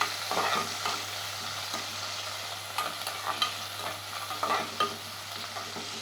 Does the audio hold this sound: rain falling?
no